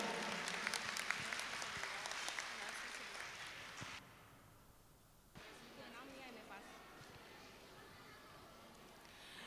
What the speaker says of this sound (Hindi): तो इनके लिए जोरदार तालियां हो जाए